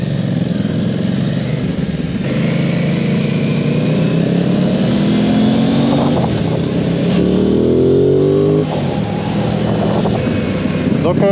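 A Honda CB500 motorcycle rides along roads around Le Moule, its engine droning loud and steady with rising and falling revs, while a rider talks over the noise.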